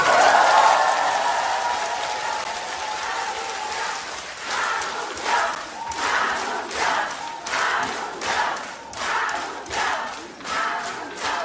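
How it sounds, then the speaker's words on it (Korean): Crowd applause and cheering for a committee chairman at a conservative-party debate forum, starting as a steady wash of clapping and swelling into rhythmic waves of cheers and claps from a large audience. "황운경 위원장 박수 한번 주세요."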